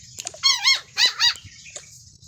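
A dog barks and whines in short, high, squeaky bursts, with two close pairs of yelps near the middle and fainter whimpers around them, fairly close and with no talk.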